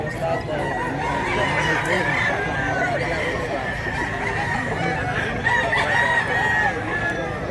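Roosters and chickens at a market in Mantalungon, Barili, Cebu, with crowing and clucking rising over a dense, busy crowd murmur throughout.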